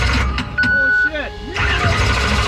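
A car engine with a newly replaced starter cranks and catches somewhere in Baja, stuttering briefly before running, while people talk excitedly nearby.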